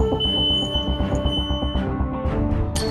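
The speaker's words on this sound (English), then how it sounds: "these pressure switches will trigger an alarm" A gas-leak pressure-switch alarm sounds in a clean-room gas facility: steady electronic tones with a pulsing rhythm, loud and continuous, with a brighter burst at the end.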